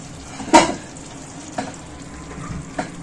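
Garam masala paste mixed with water hits a pan of potol curry with a sharp sizzle, followed by a low steady frying hiss and two softer stirring scrapes.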